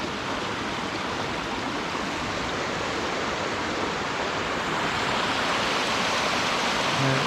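Coal Creek Falls on Cougar Mountain pours in a constant broadband rush of falling water, close and even, slightly swelling toward the end, with no talking.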